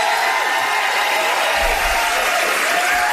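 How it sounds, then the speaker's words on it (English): A large crowd at a Minnesota political gathering claps and cheers continuously, a dense, loud wash of applause with scattered whoops throughout. "this is the first time you've even heard from the crowd"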